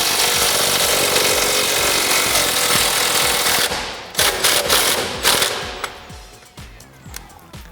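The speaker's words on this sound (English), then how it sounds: "I will take my 3/8 gun with my 18mm on" A 3/8 impact gun with an 18mm socket loosens a bolt on a WD F-250 during a front leveling kit install, a loud, close, continuous hammering rattle followed by several shorter bursts.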